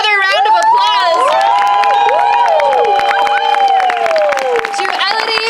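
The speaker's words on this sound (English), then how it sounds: "Let's give another round of applause" An audience at a variety show cheers and claps loudly and continuously, with excited shouts and whoops riding over the steady applause throughout.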